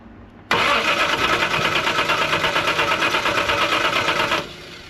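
A Reliant Scimitar GTE engine being revived bursts into life abruptly on petrol and runs loud and rough, with a rapid rhythmic pulse, for about four seconds before cutting out.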